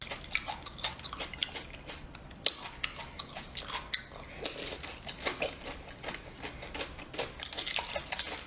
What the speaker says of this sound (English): What's with all the slurping and chewing?